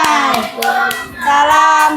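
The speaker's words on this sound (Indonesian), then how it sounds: "Beri tepuk tangan untuk kelompok 2" A classroom claps for a student group, a short burst of brisk hand claps from several people, close and loud, mixed with bright sustained tones.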